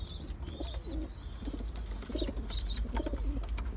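Justoni pigeons coo in a loft, close and clear, with soft repeated throaty coos mixed with thin high chirps and faint wing rustles over a low background rumble.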